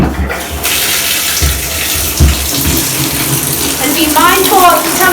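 Tap water runs steadily into a bucket being filled for an aquarium water change, a continuous close rushing splash that holds at an even level throughout.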